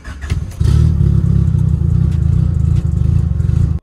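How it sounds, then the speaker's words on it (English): A boosted Honda CRX engine cranks briefly, then fires and settles into a loud, steady, throbbing idle close by with radiator fans running, before cutting off abruptly at the end. "So I'm gonna just start the car up for you so you can hear it"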